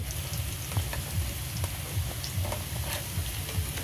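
Pakoras made with a pinch of baking powder fry in a village kitchen pan, giving a steady, dense crackling sizzle with small pops throughout and no one speaking.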